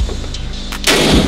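An AK-47 rifle fires at a shooting range in Cambodia: a couple of close, loud gunshots, the last one a heavy blast whose boom lingers to the end of the clip.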